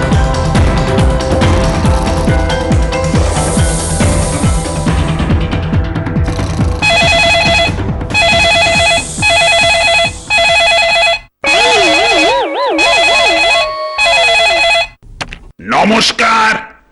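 A telephone rings in repeated bursts with short gaps, loud and close, after a stretch of music, during a cartoon scene of a call to a police station.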